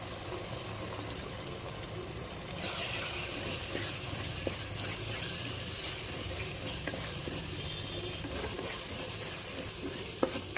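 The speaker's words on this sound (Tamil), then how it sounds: "சிக்கன் மசாலாவை ஒரு பத்து செகண்ட் நல்லா பெரட்டி விடலாம்" Chicken masala powder frying in a pan with tomato, onion, ginger and garlic, a steady broad sizzle with occasional scrapes and clicks of a spoon stirring, growing slightly louder partway through.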